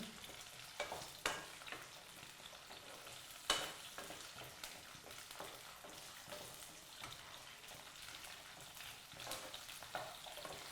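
Food frying in a pan gives a steady, faint sizzle and crackle, broken by scraping, clinking spoon strokes as it is stirred in a kitchen.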